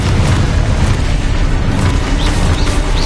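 A spell explosion in the Hogwarts Legacy video game, a dense, loud, continuous booming roar of blasts and rumble that fills the scene without letup.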